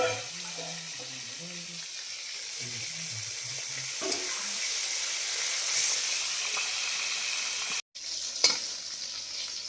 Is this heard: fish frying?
yes